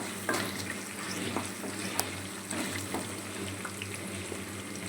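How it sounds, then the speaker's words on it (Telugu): Fenugreek and coriander seeds frying in hot oil, a steady low crackling sizzle with scattered small pops, faint and continuous throughout without any talking. "1 స్పూను మెంతులు, ఇంకా ఒక 4 స్పూన్లు ధనియాలు బాగా ఇవి ఆయిల్లో బాగా వేస్తాం."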